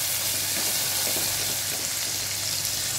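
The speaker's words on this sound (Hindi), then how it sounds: "लहसुन और मिर्ची का ठेचा, तो हल्का सा अच्छा सौते करके" Crushed garlic and chilli sautéing with curry leaves in hot oil, heard as a continuous loud sizzle with a faint stir, close up and steady.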